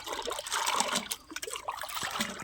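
Cow dung stirred into water is splashed and sprinkled by hand across the ground at a home courtyard, giving a steady wet spattering and dribbling with a few heavier splashes throughout.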